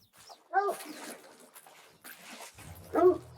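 A hunting dog in theHunter: Call of the Wild, on an ibex hunt in the Cuatro Colinas region, lets out two short bursts of yelping barks a couple of seconds apart, fairly close and alone without talk.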